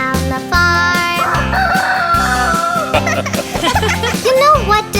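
Chicken clucking in a children's farm song, mimicked by singing voices in rhythmic bursts over a bouncy, loud musical backing.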